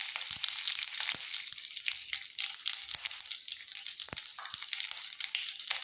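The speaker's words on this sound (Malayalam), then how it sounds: "കുറച്ച് കടുക് പൊട്ടിക്കുക" Mustard seeds and curry leaves spluttering in hot oil for a Kerala papaya mezhukkupuratty, a steady close sizzle broken by sharp irregular pops and crackles throughout, with no talking.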